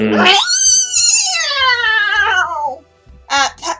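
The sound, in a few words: voice imitating a startled cat's noise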